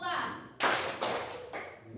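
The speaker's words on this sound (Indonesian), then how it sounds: "Tepuk 4 kurang 2." A class claps together in a math counting exercise, a couple of loud group claps following a brief voice, with a child's speech faint beneath.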